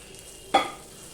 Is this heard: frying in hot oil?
yes